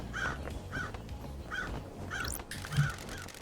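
Crows in the video game Paradise Killer give a series of harsh caws, roughly one every half second, over a low rumbling ambience with a brief rising chime partway through.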